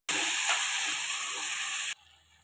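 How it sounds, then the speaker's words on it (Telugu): Tomato pieces land in a pan of hot oil with fried onion, cumin and fenugreek, setting off a loud, close, steady sizzle that cuts off abruptly near the end. "ఆనియన్ దోరగా ఫ్రై అయ్యాక ఈ టమాటా ముక్కలు."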